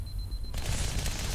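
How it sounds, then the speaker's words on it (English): SMG fire in the Halo 2 video game: after a short quiet stretch, a dense burst of rapid gunshots erupts and continues to the end. "Czechia with the SMG, putting shots into Fattystuff, hunting him down."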